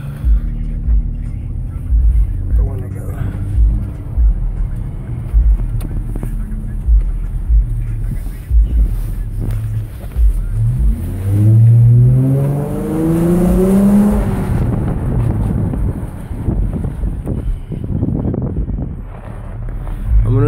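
A 2014 Dodge Challenger's exhaust rumbles low while driving in snowy conditions, with wind buffeting the microphone, then revs up sharply in a rising roar before settling back.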